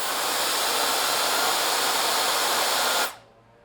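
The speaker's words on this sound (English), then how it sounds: "let's test out the airspeed of the WOLFBOX MF200" A WOLFBOX MF200 electric air duster blows hard and close, making a loud, steady rushing hiss for about three seconds before it cuts off sharply into quiet.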